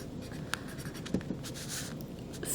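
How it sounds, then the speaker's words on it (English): Pen or pencil writing by hand on paper during a geometry lesson on dilation: a faint, continuous scratchy stroke sound close by, with a few soft taps and no voices. "so if I write this down"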